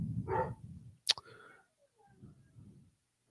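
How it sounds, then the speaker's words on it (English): A single sharp dog bark rings out close by in a room, with muffled talk before and after it. "the dog is barking his head off"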